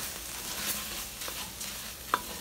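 Spices fry in a pan, a soft steady sizzle punctuated by a few scraping stirs and one sharp clink of a utensil near the end, close and fairly quiet with no talking.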